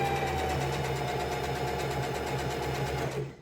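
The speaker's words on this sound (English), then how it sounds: "So I'm just gonna go ahead and sew this second part." A sewing machine stitches a ribbon skirt with a steady, continuous mechanical hum and rapid needle chatter that runs close and loud, then cuts off abruptly at the end.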